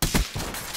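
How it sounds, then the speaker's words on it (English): Enemy machine gun fire in Call of Duty Black Ops III, two or three quick loud shots in a brief burst within a noisy in-game battle. "There's enemy machine gun fire."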